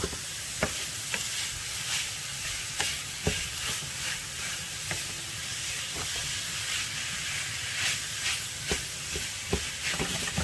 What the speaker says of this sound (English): put your sausage in, brown your sausage first